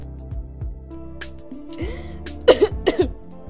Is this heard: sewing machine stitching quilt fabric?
no